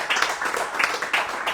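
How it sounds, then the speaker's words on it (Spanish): Brief applause from a church congregation welcoming a preacher, scattered claps swelling in short bursts over a steady patter for under two seconds. "Vamos a darle un fuerte aplauso."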